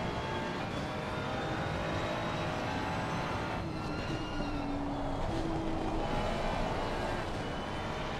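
A GT race car at Brands Hatch circuit, heard as a steady engine drone with a rising and falling tone in the middle, set against constant track and crowd ambience.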